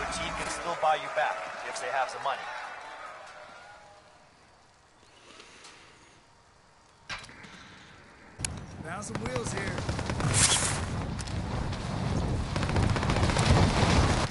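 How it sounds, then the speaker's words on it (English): Gunfire in a squad-based video game: a burst of broadband cracks and rattles fills the second half, loud and dense after a quieter stretch, with brief sharp impacts earlier and a voice talking at the start. "I hear gunfire too"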